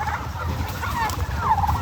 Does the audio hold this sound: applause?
no